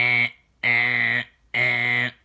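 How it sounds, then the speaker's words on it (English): A fire alarm blares in three loud, identical buzzing blasts, each about half a second to a second long, separated by short silences. "I'm going to pull the fire alarm."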